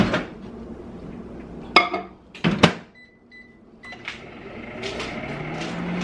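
A mug of cold coffee being reheated in a kitchen: a few sharp clinks and clatters of crockery, then a short pair of thin electronic microwave beeps, with faint background hum between.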